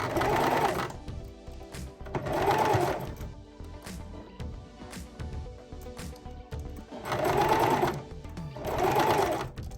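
A foot-pedal-run sewing machine stitches through wig net on a zigzag stitch, its motor whirring in four strong bursts with quieter mechanical clatter between them, close up and with no voices.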